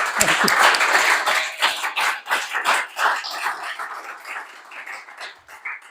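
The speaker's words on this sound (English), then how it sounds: "Let's do another round of applause." Dense applause from a crowd, loud at first and gradually thinning out as the clapping fades.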